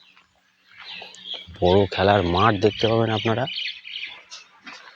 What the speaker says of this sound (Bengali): পাখিদের কলতান আপনারা শুনতে পাচ্ছেন